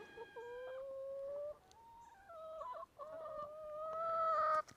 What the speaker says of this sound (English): he is really going after these white chickens for some reason